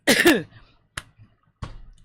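A person coughs once hard, then clears the throat with two short, rough bursts close to the mic, separated by brief quiet gaps.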